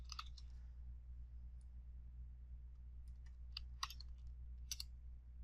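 Faint, irregular clicks of fingers typing a formula on a computer keyboard, a few scattered keystrokes over a steady low hum.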